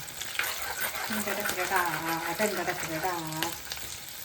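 Curry leaves sizzling as they drop into hot oil, a close, steady frying hiss with a tonal, singing quality, while someone talks over it.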